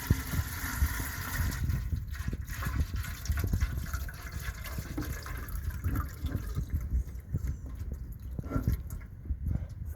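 Creek water poured from a container onto freshly planted onion sets in a garden bed, a close, uneven splashing and trickling with irregular bursts that thin out toward the end, and no talking.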